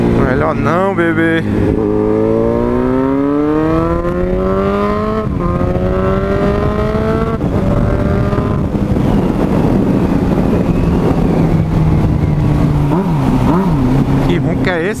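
A B-King motorcycle engine roars steadily, its pitch climbing and falling through revs, with a voice speaking Portuguese over it at times.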